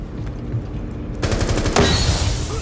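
Video game gunfire in a tense shooter match, a dense burst of rapid automatic shots breaking in partway through and continuing loudly over a low rumbling game backdrop.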